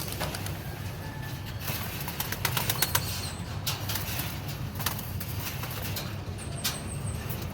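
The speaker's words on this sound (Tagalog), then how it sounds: "So ayan sila mga kalapatids," Pigeons flap their wings in a loft, with repeated bursts of flapping and fluttering over a steady low hum, faint coos and chirps scattered throughout.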